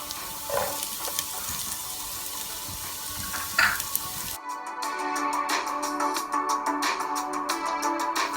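Capsicum is stir-fried in a hot pan with chicken fried rice, giving a steady loud sizzle with scraping and clatter of a spatula. It starts with a hissing, watery texture and then becomes a denser, crackling fry.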